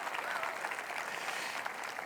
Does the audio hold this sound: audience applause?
yes